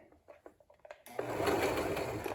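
A sewing machine runs a straight stitch through fabric for a festive banner, starting after a moment of soft handling noises and then whirring steadily and close up.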